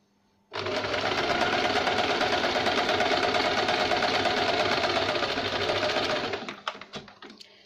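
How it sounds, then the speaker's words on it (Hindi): A sewing machine stitches a velvet blouse, running loud and close in one continuous burst for about six seconds before slowing to a stop with a few final clicks; no talking. "जहाँ तक हमने निशान लगाया वहाँ तक हम सिलाई लगाएंगे।"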